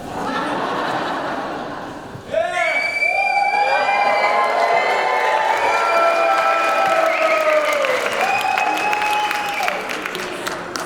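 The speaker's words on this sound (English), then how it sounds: "So get all your cheering out now, because you won't be allowed to do it during this forum." Crowd at a Democratic gubernatorial candidates' forum cheering and applauding loudly and continuously, with whoops and shouts rising over the noise for several seconds.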